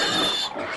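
A pig grunting close by, a short rough snorting burst that trails off quickly.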